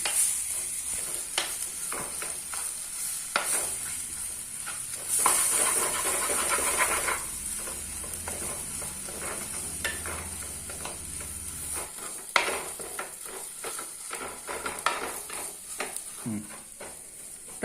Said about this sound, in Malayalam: ഇളക്കി നന്നായിട്ട്, അതായത് തേങ്ങ നന്നായിട്ട് വാടി വരണം.